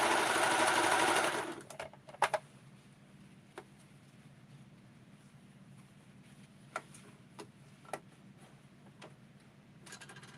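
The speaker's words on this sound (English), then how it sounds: "So why don't we just put the serger here" A serger sewing machine runs in a loud, steady whir for about the first second and a half while a red coat is sewn. Then it stops, leaving a quiet room with a few scattered light clicks and taps.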